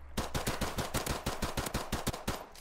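Close, loud automatic gunfire in Call of Duty 4 Remastered during a Gun Game match, a fast steady stream of about a dozen evenly spaced shots with no talking over it.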